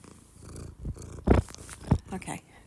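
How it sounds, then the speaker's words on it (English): A cat purrs close up in soft, rhythmic pulses, with a couple of louder rumbling bursts. "I don't know if you heard the purring, but Bitchy Boo Boo says hi."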